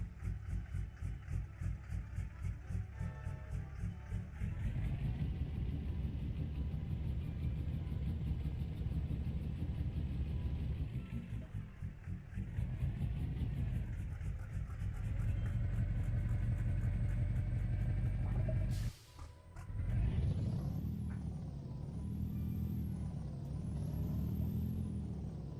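Truck engine in American Truck Simulator labouring uphill, a deep steady rumble that shifts pitch several times, with a brief dropout near the end before a wavering whine returns.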